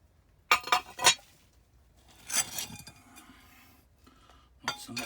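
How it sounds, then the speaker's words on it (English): Broken glass shards clink and chink against each other and stone while digging out a WWII air raid shelter, in three sharp bursts of rattling clatter spaced by quieter scraping, close and fairly crisp. "Lots and lots and lots of glass."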